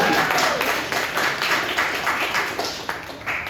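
Steady applause with scattered claps from the audience at a live stand-up comedy show, moderately loud and continuous, fading slightly toward the end.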